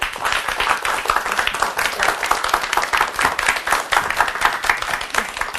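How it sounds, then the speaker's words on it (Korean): A studio audience gives lively applause welcoming a university professor as guest speaker, with many hands clapping in a dense, steady burst that stays loud throughout the few seconds. "큰 박수로 맞아주시기 바랍니다"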